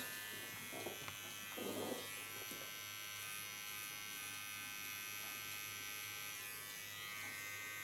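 An electric hair clipper hums steadily at close range while trimming fine hair, giving a continuous buzzing drone with a few brief rustles and soft touches over it. No one talks.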